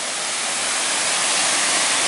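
Waterfall on Oregon's Eagle Creek Trail, a steady broadband roar of falling water that fills the whole clip at constant loudness, close and unbroken, with no voices.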